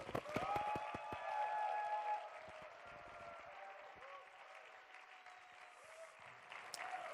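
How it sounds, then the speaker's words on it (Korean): Young adults at a church winter retreat clap and cheer to welcome a pastor onto the stage, loud dense applause with scattered shouts that eases after a couple of seconds into steadier, softer clapping. "우리 청년답게 환호하며 박수로 우리 목사님 모시겠습니다"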